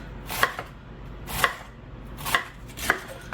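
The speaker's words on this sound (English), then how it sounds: "I'm going to chop this really fine and then go back over it and just keep chopping" A knife chops through lettuce on a cutting board in four crisp strokes with a slightly uneven rhythm, close up and clear.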